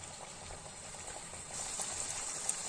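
Chicken nuggets fry in hot oil in a home kitchen, giving off a steady, soft sizzle and bubbling hiss that holds evenly and grows slightly louder partway through.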